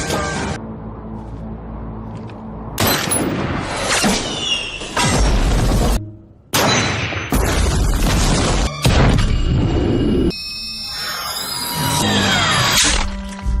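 Bomb attack explosions in a war film set on the Arabian peninsula: repeated loud, heavy booms with crashing, shattering debris, separated by brief gaps, dense and close throughout.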